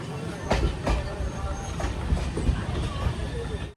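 Matsyagandha Express pulling into Kundapura station, a steady rumbling rail roar with rhythmic wheel clatter and a few sharp knocks, heard up close from aboard the train, with faint voices mixed in.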